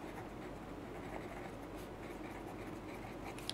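A pen writes out a class 10 trigonometry maths solution in steady, continuous faint scratching strokes, close and quiet, with no talking.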